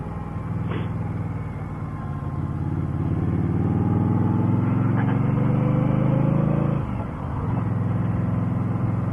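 An Indian motorcycle rumbles steadily while being ridden on the road, the engine note rising gradually through a sustained drive with a short dip near the end, loud and close with no talk.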